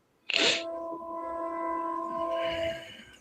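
A train passes with a sharp onset, then a sustained horn-like tone and rumbling rail noise that swells and fades over a few seconds, with no voices.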